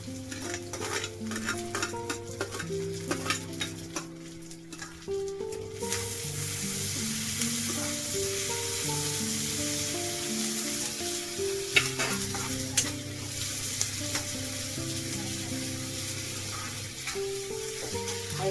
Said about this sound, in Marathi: कांदा चांगला भाजून घेऊया कांदा आपला भाजलाय टाकूया टमाटा